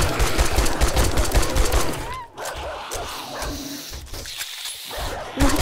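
A hostile dog attacks in the survival game 7 Days to Die, barking and yelping up close amid loud, busy game noise with bursts like gunfire. The noise eases briefly midway, then carries on.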